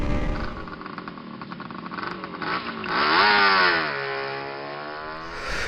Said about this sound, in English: Today we are gonna have a test ride of KTM Adventure 250